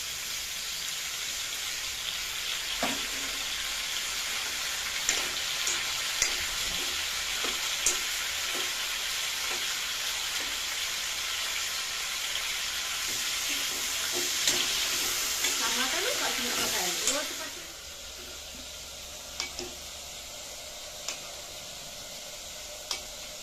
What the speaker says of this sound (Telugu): ఇప్పుడు ఇందులోనే టమాటాలు వేసేద్దాం